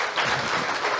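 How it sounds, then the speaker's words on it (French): A church congregation applauds in one brief, steady wash of clapping from many hands, moderately loud and heard alone. "Est-ce qu'on peut en effet les applaudir ?"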